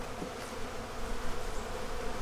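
Honey bees crawling over comb in a hive frame, a dense steady buzzing hum close up, with no talk over it.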